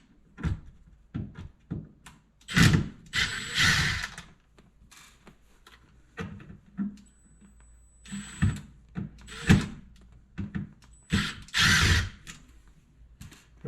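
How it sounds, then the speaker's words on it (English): A power drill backs Robertson screws out of a dishwasher in a series of short whirring bursts separated by pauses, with scattered knocks and clunks of metal parts, close and fairly loud. "So these two screws are put in with Robertson. Sometimes there are other types, but I'm just going to remove them if I can see them."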